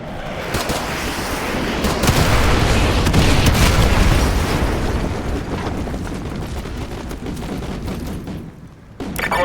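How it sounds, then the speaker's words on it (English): Artillery strike explosions in the video game MW2 Remastered roll together into a loud, sustained barrage of deep booms and rumbling blasts, dense and overlapping before tapering off near the end. "Ramirez, use your laser designator to call in artillery on those vehicles."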